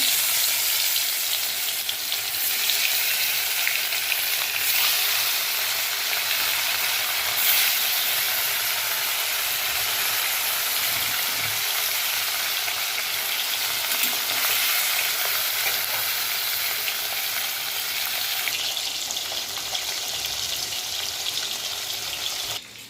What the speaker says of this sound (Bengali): তো তেলটা গরম হয়ে গেছে, একটা একটা করে মাছ আমি ছেড়ে দেবো এখন